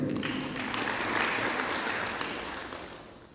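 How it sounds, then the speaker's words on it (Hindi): An audience at a religious discourse claps together in a burst of applause that swells and then gradually fades away. "ताली बजाने का मायना समझ में नहीं आया हमें"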